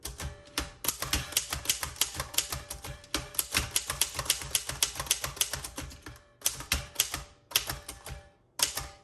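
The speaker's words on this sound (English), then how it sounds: "Let's do a little bit of typing." Rapid bursts of keystrokes and clacking typebars from a 1909 Royal Standard No. 1 antique typewriter, close and loud, running in quick rhythmic runs with a few brief pauses and no talking.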